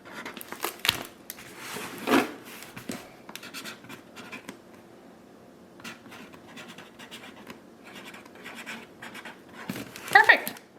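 A pen scratching a label onto the top of a winter sowing container for poppies, asparagus or liatris, with intermittent close scritching strokes and handling rustles, faint and under quiet background sounds.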